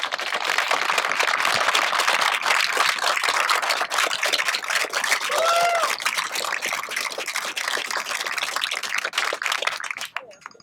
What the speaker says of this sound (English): please stand so that we can actually applaud your efforts